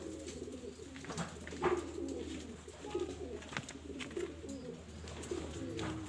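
Pigeons in a loft cooing during breeding pair selection, repeated soft low coos at an unhurried pace, moderately close over a faint steady background hum.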